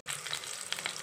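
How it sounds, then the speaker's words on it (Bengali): Cauliflower pieces frying in hot oil in a kadai for a Bengali potato and cauliflower dish, giving a steady, loud, crackling sizzle that starts abruptly and carries on without speech. "তেল গরম হয়ে গেছে, ফুলকপির টুকরোগুলোকে দিয়ে দিলাম।"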